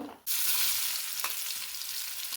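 Onions frying in hot oil for beresta after eggs were fried in it, making a loud, steady hiss and sizzle that starts abruptly and holds close and continuous until it cuts off.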